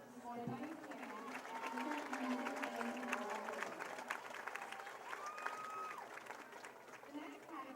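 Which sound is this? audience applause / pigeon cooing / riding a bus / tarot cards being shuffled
audience applause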